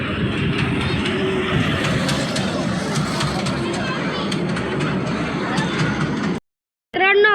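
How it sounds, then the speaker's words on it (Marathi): Small children's ride-on train at a temple fair in Kolhapur, a steady rumbling clatter of wheels and carriages running continuously under crowd chatter, then a brief cut to silence near the end. "ही लहान पोरांची ट्रेन"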